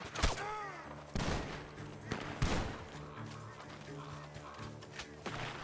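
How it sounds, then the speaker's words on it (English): Sharp gunshot bangs ring out irregularly in Red Dead Redemption 2, several sharp cracks over a busy, layered game soundscape with faint background tones. "The gunshots are coming from that..."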